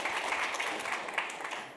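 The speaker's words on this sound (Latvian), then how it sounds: "Aplausus Aldim Greitānam, lūdzu." Audience applause at a public-sector governance and internal audit conference, a steady wash of many hands clapping for the next speaker, fairly close and sustained throughout.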